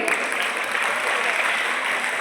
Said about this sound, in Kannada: ಜೋರದ ಚಪ್ಪಾಳೆ ಹೊಡೆದಿ